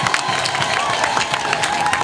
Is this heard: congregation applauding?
yes